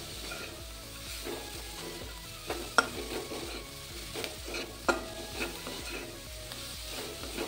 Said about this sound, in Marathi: आपल्याला कोथिंबीर असा भाजून घ्यायचा आहे तेलात